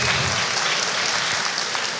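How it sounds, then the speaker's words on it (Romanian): Loud, dense applause from an audience at a chemistry graduation ceremony, a continuous wash of many hands clapping close by, steady throughout with no voices on top. "Aplauze!"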